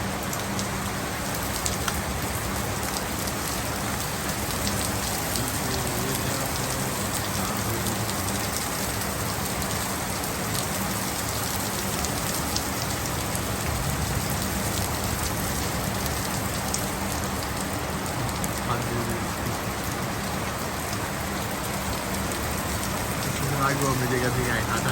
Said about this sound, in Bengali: আমারও বৃষ্টির মন চাইতেছে, কিন্তু ভিজবো না, ঠান্ডা লাগতে পারে আমার